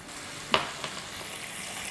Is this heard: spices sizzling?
yes